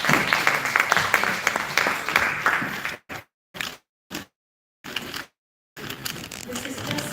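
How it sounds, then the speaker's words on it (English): An audience at a cancer screening and prevention forum claps, dense applause for about three seconds that then breaks up into short bursts separated by silent gaps before resuming. "A round of applause for Virginia"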